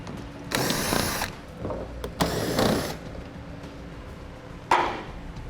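Three short bursts of a power tool spinning out 7mm screws from the front air dam of a 2018 vehicle, close and separated by quiet pauses.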